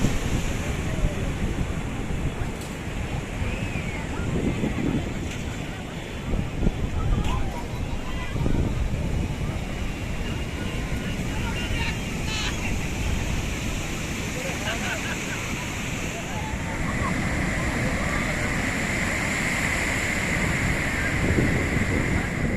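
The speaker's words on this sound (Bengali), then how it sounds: "খুব হাওয়া চলছে।" Strong night wind buffets the microphone at Swargadwar beach in Puri with a constant roar, the surf rumbling underneath, and people talking over it now and then.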